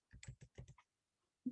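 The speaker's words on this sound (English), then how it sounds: "type in the password" A computer keyboard is tapped as a password is entered, about six quick close keystrokes in a brief burst, then a pause and one more soft thump at the end.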